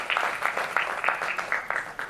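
An audience at a film festival opening ceremony applauds a consul general in a brief, dense burst of clapping that fills the room and sounds fairly close, with no voices over it.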